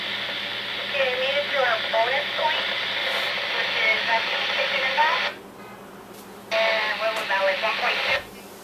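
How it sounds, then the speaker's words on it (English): Hissing static from a Midland GXT1000VP4 two-way radio about 1.3 miles out, a dense broadband crackle with warbling voice-like tones running for five seconds, a brief quieter gap, then another burst of static. "It's a lot more static."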